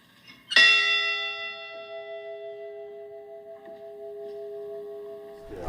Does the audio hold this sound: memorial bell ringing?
yes